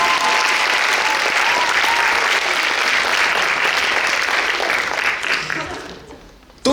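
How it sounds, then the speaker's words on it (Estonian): Steady, dense applause from a large audience at a school dance festival, holding strong for several seconds before fading away. "üks suur aplaus neile veel"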